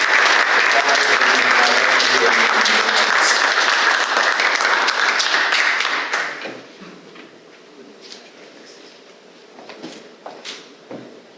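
Loud, full audience applause honoring board officers at a Holocaust museum annual meeting, sustained for about six seconds before dying away into scattered claps, shuffling and room noise.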